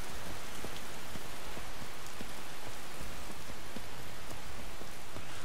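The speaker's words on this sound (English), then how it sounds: "The rain is stopping." Rain falls steadily in the game Skyrim, a loud, dense and unbroken hiss of drops with scattered sharper patters on surfaces, no voices.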